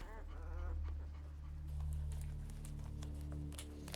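Labrador puppies from a guide-dog breeding program pant with quick breaths and faint whimpers, close by, over a steady low hum.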